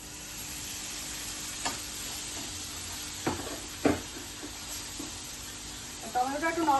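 Spice masala in a pan sizzling after a splash of water is added, a soft steady hiss with a few scraping stirs and a burst of louder bubbling near the end, no voices.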